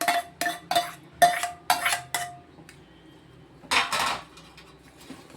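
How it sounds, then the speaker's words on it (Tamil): A ladle clinks and scrapes against a metal pot while pineapple payasam is scooped, poured and stirred, giving a quick series of sharp metallic knocks and then a softer scrape, close up and without talk. "கொஞ்சம் பாயாசத்தில் அள்ளி ஊற்றி கிண்டி ஊற்றிடுவோம்."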